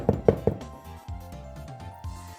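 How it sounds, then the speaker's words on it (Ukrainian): Knocking on the door of a bear's den in a children's tale: three quick, sharp knocks at the start, followed by soft sustained musical tones. "Та й ну стукати в двері."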